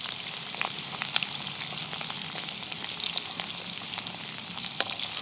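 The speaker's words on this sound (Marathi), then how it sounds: "एक कांदा चिरून घेतलाय मी त्याला मस्त असा तळून घेते लाल" A chopped onion fries in oil in a pan, giving a steady close sizzle with scattered small crackles and light taps, and no one speaking.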